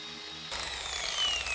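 A car polishing machine switches on abruptly and runs over masking tape on car paint, a loud, steady whirring grind with a faint high whine, alone and close.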